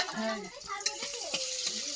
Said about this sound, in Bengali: আর এইবার কপি আর গাজর একসাথে ভাজা হচ্ছে